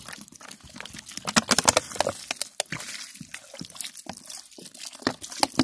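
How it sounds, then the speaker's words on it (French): Water pours from a bottle onto a potted plant, splashing and trickling in uneven bursts with close, fairly faint dribbles. "Ensuite, j'arrose, je mets de l'eau. Je vais mettre une bonne bouteille."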